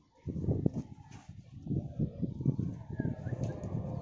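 Domestic pigeons coo softly inside a tall loft in Ezbet El Borg, Damietta, Egypt, a low, continuous, rather faint murmur of overlapping calls.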